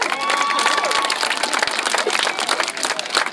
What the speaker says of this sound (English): How about another big round of applause for Kiddo?